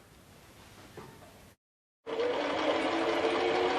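A Cooper Pro Deluxe Mk II sewing machine stitches one side of a buttonhole. A quiet stretch and a brief silence come first, then the motor starts with a steady, fairly loud close-up whirring hum.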